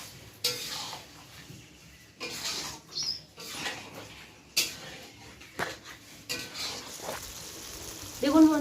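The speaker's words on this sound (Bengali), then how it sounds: "দিয়ে ভালো করে মিশিয়ে নিয়ে আবার কষিয়ে নেব।" Chicken stirred and fried with ground cumin, coriander and dried chilli, a low sizzle with irregular scraping and clattering strokes of the spoon against the pan, quiet and without talk.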